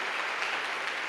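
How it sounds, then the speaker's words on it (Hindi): Church congregation clapping loudly in praise during a Christian worship service, a dense, steady wash of applause filling the whole moment. "जोरदार ताली प्रभु की महिमा के लिए"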